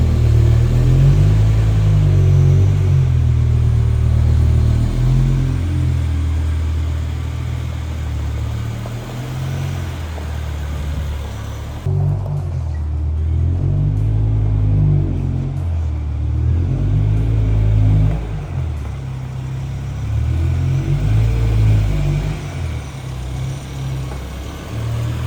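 A BMW M6 V10 runs close by while being maneuvered and turned around, its deep engine rumble rising and falling with short revs over a steady idle, loud throughout.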